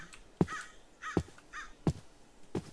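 Crows cawing in Minecraft: four separate caws spaced about half a second to a second apart, moderately faint and heard alone.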